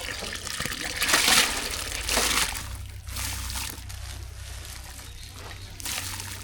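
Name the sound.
washed lentils added to hot water for sambar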